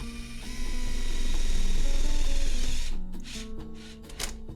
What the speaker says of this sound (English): maybe the play is actually using these self-tapping sheet metal screws